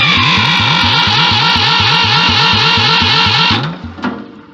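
A Ford 2000 tractor engine runs with the choke out and no throttle, a loud, close, lumpy rhythmic chug that suddenly cuts out near the end, followed by a brief clunk and fading rattle.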